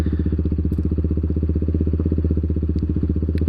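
A Kawasaki Z125 motorcycle engine idles at about 1700 RPM after its computer recall update, with a steady, rapid, even putter heard close and loud, alone.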